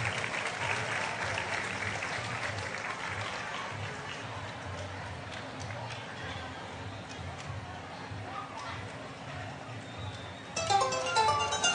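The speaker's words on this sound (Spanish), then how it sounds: "¡Fuertes esos aplausos!" Steady audience applause fills the hall at a Mexican folkloric dance performance, even and continuous throughout with a faint announcer's voice beneath it.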